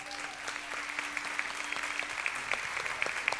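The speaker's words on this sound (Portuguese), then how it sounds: "Você pode aplaudir ao Senhor?" A church congregation applauding during an evening celebration service, a steady, moderately distant wash of many hands clapping with a few sharper claps standing out, sustained for several seconds.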